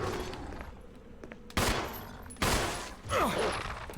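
Gunfire in a Resident Evil horror game, with two sharp loud shots about a second apart over quiet, eerie ambience and a fading rumble afterward.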